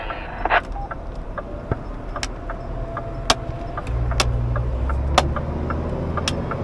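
A car driving along, its engine and road noise rumbling steadily with louder low hum in the second half, scattered clicks and small knocks from inside the cabin.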